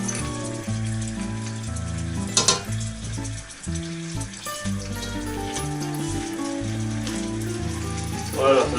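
Peppers frying in a pan, a steady crackling sizzle with occasional stirring clatter, heard under a voice talking throughout.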